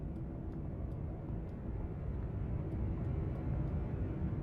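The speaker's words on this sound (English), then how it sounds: "Here comes Mr. Airplane again." A fixed-wing airplane passes overhead during a naval exercise, producing a steady, fairly loud low rumble that swells slightly toward the end, with no talking.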